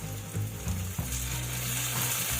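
Chopped tomatoes hitting hot oil with onions in a pan for a jackfruit curry: a loud, continuous close sizzle and crackle with a few stirring scrapes, no voices.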